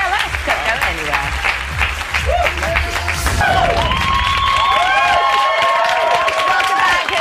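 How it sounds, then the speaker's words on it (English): Studio audience on a British television talent show results programme claps and cheers for the judges, a dense crowd roar under voices and music, with the applause continuing steadily throughout. "Big round of applause for judges."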